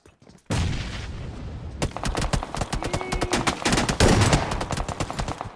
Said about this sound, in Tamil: குண்டு சுட்டே போறான்